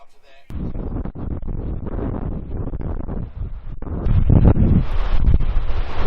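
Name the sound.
wind blowing on the coast at Robe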